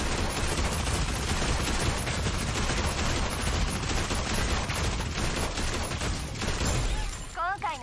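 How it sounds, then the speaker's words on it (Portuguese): A mecha's machine gun in the video game Super Mecha Champions fires in a dense, continuous roar of rapid shots, loud and sustained before cutting off near the end, with a brief electronic effect following. "Então ele carrega aí uma metralhadora, né, numa mão. Olha a barulheira que tá até aqui."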